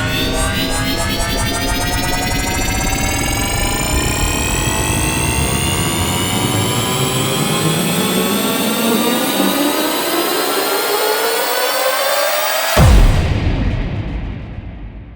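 A spacecraft engine roars steadily and throttles up toward deep space, loud and close, with rising tones sweeping upward for many seconds before a sudden cutoff into a fading rumble.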